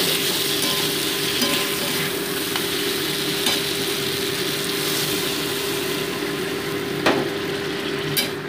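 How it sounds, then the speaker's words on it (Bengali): Water poured into a pan of frying boal fish with cauliflower sets off a steady, loud continuous sizzle and bubbling hiss, with occasional clinks of utensils near the end. "এবার আমি জল অ্যাড করে দেবো"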